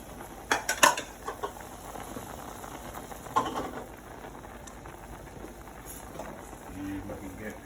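Bowls, dishes and a cutting board are cleared from a kitchen counter after making cream of broccoli soup, giving a few sharp clinks and clatters near the start and middle, with a person talking over the clearing.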